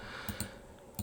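A computer mouse right-clicking on a desktop, giving a few quiet, sharp clicks spaced irregularly over a second.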